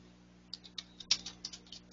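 Quick, uneven keystrokes clatter on a computer keyboard while someone types entries into an online compliance portal, a dozen or so soft clicks with one sharper tap, close up and alone over faint room hum.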